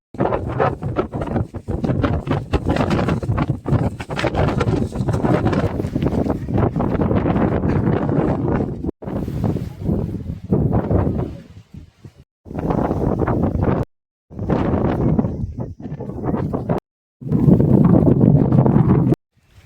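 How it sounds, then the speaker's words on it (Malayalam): Strong wind on a hilltop at Ranipuram buffets the microphone in loud, roaring gusts, broken by brief lulls, continuous and close. "ഏറ്റവും ടോപ്പിലെത്തിയപ്പോൾ നല്ല കാറ്റ്"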